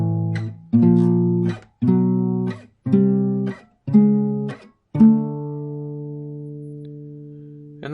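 A guitar plays through an exercise of perfect fifth intervals, several short plucked dyads in a steady sequence. The last one is left to ring out and decay slowly, and everything is heard close and clean with no talking.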